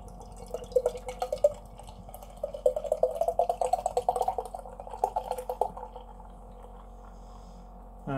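DDH HBC 586 IPA from Track Brewing poured from a can into a glass, a close, gurgling glug of liquid in quick uneven pulses for several seconds before it tapers off.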